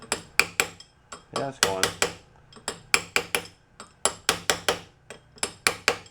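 Hammering on a brass drift to seat parts of a merry-go-round under repair, a rapid series of sharp metallic strikes in uneven bursts at close range, with brief talking.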